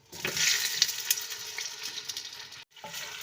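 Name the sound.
chicken frying in oil in a cooking pot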